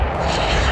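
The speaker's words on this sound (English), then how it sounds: "watch XB1 on her takeoff roll as she leaps into the air" The Boom XB1 supersonic demonstrator jet roars on its takeoff roll, a loud, dense, continuous broadband blast filling the short clip without pause.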